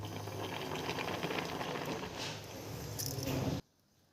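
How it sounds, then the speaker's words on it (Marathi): Cold water poured from above over boiled noodles sitting in a metal strainer, a steady rushing splash and patter for several seconds that cuts off abruptly. "आता यावरती एका चाळणीत घेऊन थंड पाणी टाकायचं आहे."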